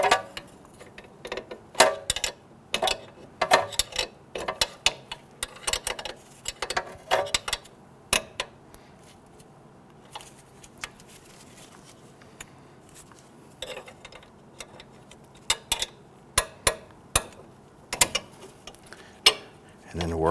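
Metal clicks and scraping from a pry tool working out the front wheel hub and bearing assembly on a 2008-2013 Infiniti G37, sounding as sharp, irregular close-up ticks and knocks separated by quiet stretches.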